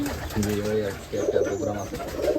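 Several pigeons coo in a rolling, repeated rhythm, loud and close, with overlapping low throaty phrases filling the clip and a brief dip near the middle.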